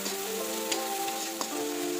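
Onion frying with salt, turmeric and coriander powder in oil over a medium flame, a continuous close sizzle with a couple of brief scraping stirs, no talking.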